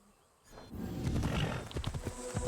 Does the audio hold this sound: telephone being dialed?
no